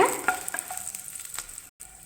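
Garlic and dried chillies fry in a pan for a ridge gourd chutney, giving a steady close hiss and sizzle with small crackling pops, then a brief cut to silence before the sizzle resumes.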